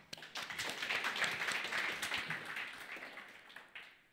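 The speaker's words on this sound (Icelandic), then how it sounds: "Gefum Sigríði gott klapp" Audience applause at a public meeting in Reykjavík on a new neighbourhood plan for Hlíðar, a steady wash of many hands clapping that holds for about three seconds before thinning out.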